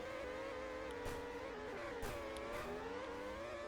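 Race cars on a track in a mobile racing game, engines droning steadily at high revs with the pitch rising and dipping as cars accelerate and pass, continuous and fairly quiet.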